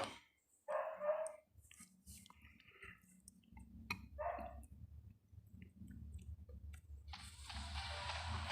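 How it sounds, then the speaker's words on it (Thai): A dog barks in short separate bursts, fairly close, amid clicks and soft sounds from a pixel-art hero game during a boss fight. "มาเห่าอะไรวะ"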